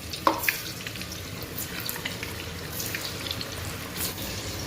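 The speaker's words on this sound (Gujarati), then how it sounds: "બે વાર તળવાના થાય, આ બીજી વાર નાખી દઈએ છે." Manchurian balls drop into hot oil for their second frying, giving a steady low bubbling sizzle with a couple of soft clinks near the start, no voices.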